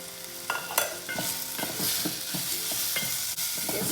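Avarakkai beans, onion and spices in hot oil are stirred with repeated scraping strokes against the pan over a steady close sizzle.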